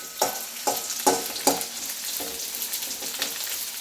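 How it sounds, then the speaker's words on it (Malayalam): Garlic, ginger and green chili sautéing in a pan: a soft background sizzle broken by four sharp, evenly spaced scraping stirs, then lighter stirring strokes, no talking. "വെളുത്തുള്ളി, ഇഞ്ചി, പച്ചമുളക് അതിട്ട് നന്നായി വഴറ്റാം."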